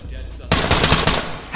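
A sudden loud burst of rapid automatic gunfire in the tactical shooter Ready Or Not, starting abruptly after a quiet moment and continuing close up for about a second.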